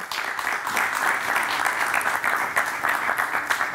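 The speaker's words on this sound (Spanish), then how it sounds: "Un fuerte aplauso para Idoya Aguirre." A studio audience applauds to welcome a guest on a cheese-tasting show, steady close clapping throughout the short stretch with no voices.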